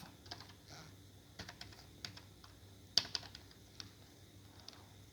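Quiet, scattered key taps on a computer keyboard while writing a C program, sparse close clicks with one sharper keystroke over a soft room hum.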